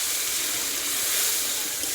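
A spice paste hits a hot pan and gives a loud, close, even hiss of sizzling that holds steady for about two seconds, with no voices.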